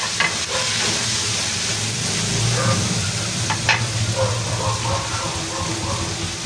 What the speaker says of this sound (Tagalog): Pinirito-prito po natin yung meat o yung liempo.